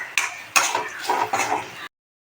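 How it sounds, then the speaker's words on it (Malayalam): Grated coconut roasting in a pan for crab curry, heard as a few close, clattering scrapes and clinks of a utensil stirring against the pan, with no talking. "എന്തായാലും ചേച്ചി തേങ്ങ വറുത്തെടുക്കട്ടെ"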